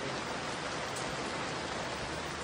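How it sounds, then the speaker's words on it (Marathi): Steady rain falls in an even, soft hiss, faint and constant, with no other sounds standing out. "आता बरोबर पाऊस आला"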